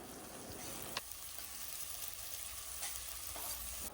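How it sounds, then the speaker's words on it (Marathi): Onion and chopped tomato sautéing in oil in a pan for a dry drumstick vegetable dish, a steady close sizzle with occasional stirring scrapes and clinks of the spoon. "कांदा परतून झाला की त्यात बारीक चिरलेला एक टोमॅटो टाकून तोही त्यात छान परतून घ्यायचा आहे"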